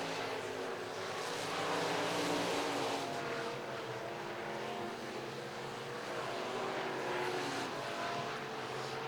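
Stock cars racing at RPM Speedway, a dirt oval, their engines a continuous distant roar that swells and fades as the pack passes, with no talk.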